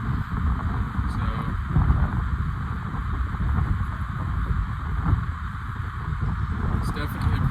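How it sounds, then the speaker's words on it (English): Strong, cold wind at Cedar Valley Bike Park in Davidson, North Carolina buffeting the microphone, a constant low roar and rumble that persists throughout without pause. "Very windy, as I'm sure you can hear."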